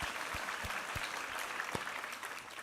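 Congregation applauding during a Korean Sunday church service, with dense steady clapping throughout and a few louder thumps standing out.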